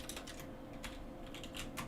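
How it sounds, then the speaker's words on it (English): Fast typing on a computer keyboard, soft clustered key clicks in short bursts at low level with a faint background hum and no voices. "I'm just gonna type in the chat so people know."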